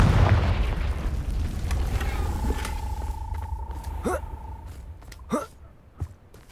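A Confringo blasting spell explodes in the Hogwarts Legacy video game with a heavy, rumbling boom that slowly fades, followed by a thin whistling streak and a few short, sharp bursts near the end.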